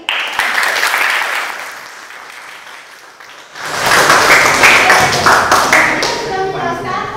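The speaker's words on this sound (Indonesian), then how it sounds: "beri tepuk tangan untuk Jaki." Applause from a classroom group after a student biology teaching presentation, starting light and thin, then swelling into fuller, louder clapping from many hands that continues steadily to the end.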